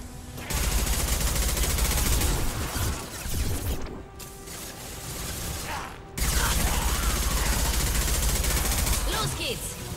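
Loud, dense bursts of rapid automatic gunfire in Mass Effect 2 rattle on, ease into a short lull, then return at full intensity.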